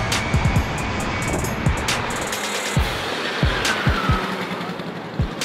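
Two brand-new 50cc two-stroke mopeds, one an Adly Bullseye, drag race from a standing start. A steady buzzing engine whine holds throughout, punctuated by sharp periodic pops and clicks.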